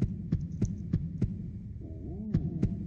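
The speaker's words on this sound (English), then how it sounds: "Ooh, heartbeats." Slow, regular thumping heartbeats from the video game Ib pulse over a low hum, about six beats, with a brief warbling tone midway.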